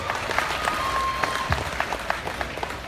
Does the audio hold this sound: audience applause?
yes